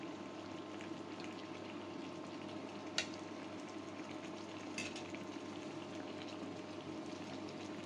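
Fried egg-laden prawns simmer in hot water in a pan with a faint, steady bubbling hiss, marked by a couple of brief soft clicks.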